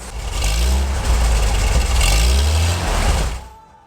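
A restored 1975 Bedford truck engine runs close and loud, with a rough, throbbing mechanical rumble that swells slightly as it revs, then drops away abruptly at the end.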